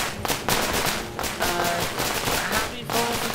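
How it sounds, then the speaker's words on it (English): Explosions in the Deep Rock Galactic video game go off in a loud, rapid run of sharp booms and crackling blasts, several bursts in a row that nearly fill the short stretch. "Oh, explosions."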